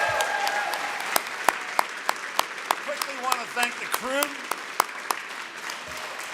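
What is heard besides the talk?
concert audience applause for performers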